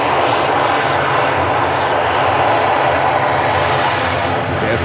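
An aircraft on approach at Manchester Airport roars steadily and loudly with a broad, continuous engine rumble that holds for several seconds without a break.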